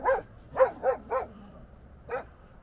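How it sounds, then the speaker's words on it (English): A dog barks excitedly outdoors at night near a river, four quick sharp barks in a row, then a pause and one more, fairly close and clear against a quiet background. "Dog's going crazy."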